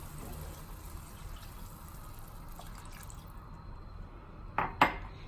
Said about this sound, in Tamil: தேவையான அளவு கொஞ்சமாக தண்ணி ஊற்றிக்கிறேன்.